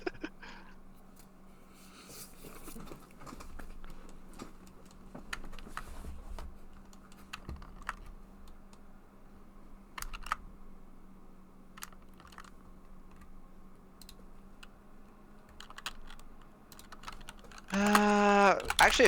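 Clicky computer keyboard typing runs steadily throughout as a rapid, close pattern of soft keystrokes beneath a faint hum, with a sharper burst of sound near the end.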